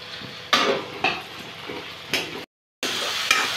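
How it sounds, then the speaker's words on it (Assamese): Ginger, garlic and chili paste sizzles in a hot pan while a spatula stirs and scrapes against the metal in several distinct strokes, with a short silent gap. "এতিয়া মছলাখিনি অকমান ভাজি ল'ব লাগিব"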